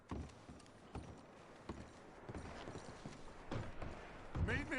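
Horses' hooves clip-clop in an uneven series of hollow knocks at moderate distance, with scattered softer thuds. Toward the end, a few louder clatters and a brief rising squeal come through.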